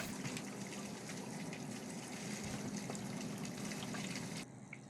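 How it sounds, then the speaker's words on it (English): Steady broadband gushing and bubbling of water from a Raspberry Pi 5 water cooling kit pump, with a constant fan whirring hum underneath, fairly loud and continuous, dropping slightly in level near the end. "Ah, that's a nice pleasant bubbling sound along with the fan."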